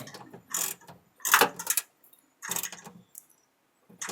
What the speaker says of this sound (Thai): ใครใช้น็อตขนาดเท่าไหนก็ ใช้บล็อกขนาดเท่านั้นขันเข้าไป